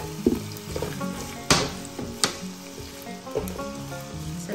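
Garlic and onion sizzle in a hot pan for tofu adobo, with a bright crackling fry punctuated by a few sharp metallic knocks and scrapes of a spatula, close up and free of speech.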